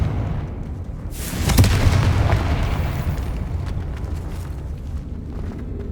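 A Confringo spell goes off in Hogwarts Legacy, one loud fiery blast followed by a rumbling decay and debris over a low continuous background. No speech.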